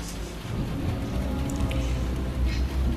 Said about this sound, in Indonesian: diiringi suara hujan yang sangat deras